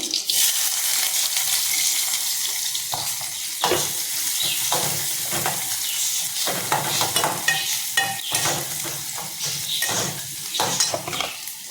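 Onion goes into a hot pan with oil for a mixed vegetable curry of eggplant, potato, cashews and drumsticks, then sizzles steadily while a spoon stirs and scrapes in irregular clattering strokes, close up, with no talking.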